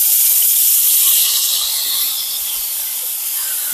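Loud, steady sizzling hiss of about 150 grams of prawns frying in hot oil, slightly easing toward the end, with no voices.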